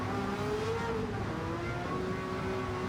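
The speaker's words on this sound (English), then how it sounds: "Much deeper engine note though in the GT40." Ford GT40 race car in a Gran Turismo 7 Le Mans race, its deep engine note droning steadily along the start-finish straight, a continuous held tone with slight pitch shifts.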